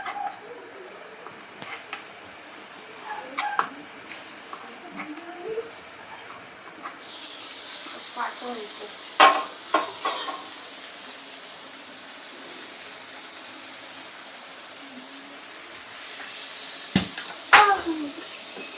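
Chicken frying in a pan, a soft steady hiss of sizzling oil with scattered clinks and taps from the kitchen, growing brighter partway through.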